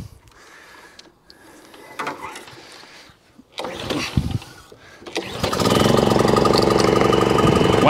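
A petrol lawn mower from a job lot of used mowers is cranked with a couple of pulls and clanks, then the engine catches and runs loudly and steadily to the end.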